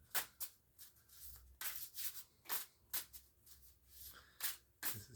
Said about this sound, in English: So let's shuffle the deck.